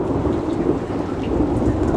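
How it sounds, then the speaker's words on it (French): A thunderstorm roars with steady, heavy rain and deep, continuous rumbling thunder filling the background; no one speaks. "J'ai l'impression que l'orage a un peu tourné."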